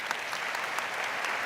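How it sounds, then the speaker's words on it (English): Audience applause at a university graduation ceremony for economic and management sciences, a dense, steady wash of many hands clapping at moderate distance, continuous and even throughout with no voices over it. "Let's give them a round of applause."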